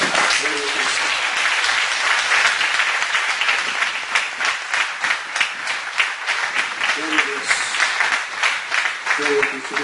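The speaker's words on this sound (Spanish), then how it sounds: "Ese aplauso, hermanos," A church congregation applauds loudly and continuously in a worship service, dense clapping with a rhythmic pulse, while a voice briefly speaks over it.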